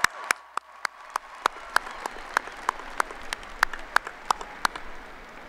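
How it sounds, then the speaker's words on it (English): Scattered applause from a commencement audience at the University of Wisconsin–Madison, individual sharp claps standing out over a lighter, steadier patter of clapping in a large hall, continuing evenly throughout. "So one more round of applause."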